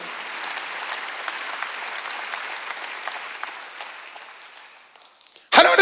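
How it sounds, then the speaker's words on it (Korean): A church congregation at a Wednesday worship service claps in steady, dense applause that gradually thins and fades, then breaks off before a sudden loud burst at the end. "박수 하나 더 해주세요."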